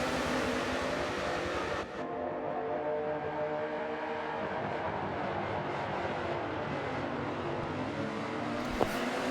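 Race cars roar through a green-flag lap at Daytona International Speedway in a racing video game, a dense, continuous engine drone holding steady throughout with no talk.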